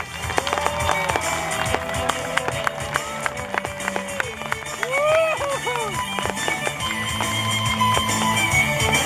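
A large crowd at the SUN 'n FUN air show roars and whistles, with shrill whistles rising and falling over steady, loud cheering that swells toward the end.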